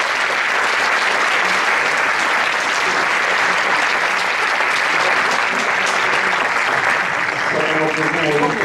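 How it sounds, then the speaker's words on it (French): A conference audience breaks into sustained applause for the speaker after an energy transition talk, a dense, steady clatter of many hands filling a hall, loud throughout, with a few voices faintly under it near the end. "On va applaudir notre conférencier."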